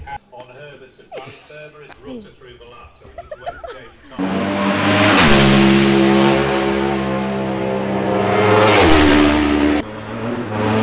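At the Isle of Man TT, after a few seconds of people talking and laughing, 600cc race motorcycles scream past close by, their loud high-revving roar rising and falling for several seconds.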